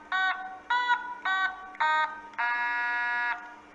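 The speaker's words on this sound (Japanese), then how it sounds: "オタマトーンは音符の形の電子楽器です。 尻尾を押さえると音が出ます。" Otamatone, a note-shaped electronic musical instrument, played in five buzzy, nasal tones: four short notes in a steady rhythm, then one longer held note, close and clear with no talking.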